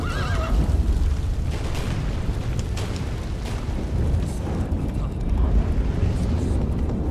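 A horse neighs in the video game The Witcher 3: Wild Hunt, a high whinny near the start over a dense rumbling game soundscape, with a voice talking over it.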